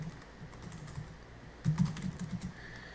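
Typing on a computer keyboard during a word-processing exercise, quiet close key clicks, sparse at first and then a quicker burst of several keystrokes, with no talking.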